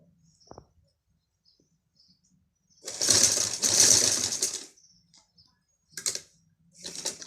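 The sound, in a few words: sewing machine stitching over piping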